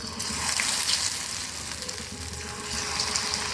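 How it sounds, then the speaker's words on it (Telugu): Paneer cubes deep frying in oil, a soft, continuous sizzle and bubbling hiss, fairly quiet and steady with slight swells, with no talk. "ఈ క్యూబ్స్ని ఒక్కొక్కటిగా ఇందులో డిప్ చేసుకొని ఆయిల్లో డీప్ ఫ్రై చేసుకోవాలి"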